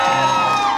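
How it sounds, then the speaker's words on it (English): Wedding reception guests cheering and whooping for a father-daughter dance, a loud, continuous swell of crowd voices and applause with no single clear speaker. "Round of applause for Melissa and her dad David on their father-daughter dance"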